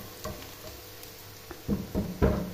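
Onions sizzling in a frying pan, with a soft steady hiss broken by a few scraping stirs and louder bursts of crackle toward the end, close and fairly quiet.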